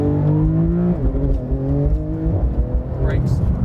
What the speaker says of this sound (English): let's try out launch control